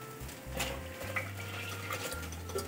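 Pearl millet batter is stirred into a pot of boiling water, giving soft scraping and sloshing with a low bubbling hum, faint and continuous.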